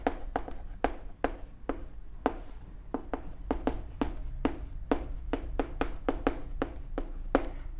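Chalk or marker strokes on a board come in quick, irregular taps and scratches during a chemistry lesson on equilibrium, close and distinct, with no speech over them.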